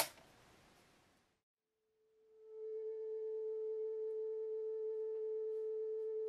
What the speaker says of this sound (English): So the spectrum analyzer is reading 436 on what should be a 440 hertz tone.